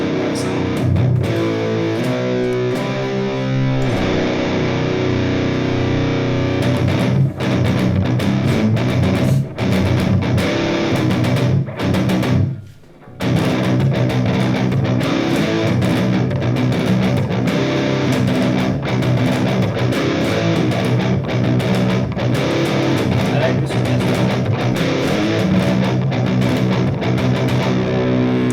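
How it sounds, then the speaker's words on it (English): An electric guitar played through the Zoom G1X Four's red crunch distortion preset, with a sustained, loud, crunchy tone and one brief gap, and a voice briefly speaking over it. "So next up we have the red crunch."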